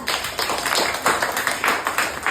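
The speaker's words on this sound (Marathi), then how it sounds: "आदित्यसाठी जोरात टाळ्या." Children clapping loudly for a classmate named Aditya after a correct puzzle answer, a quick run of sharp, irregular hand claps filling the moment, close and without talk.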